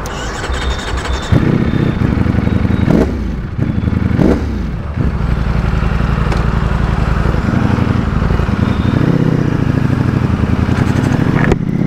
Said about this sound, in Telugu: Ducati V4S